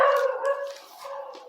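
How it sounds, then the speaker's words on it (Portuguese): A dog barks in the background during an outdoor recording, with a sustained, fairly loud yelping or howling call that fades slightly and then returns. "sempre tem cachorro latindo"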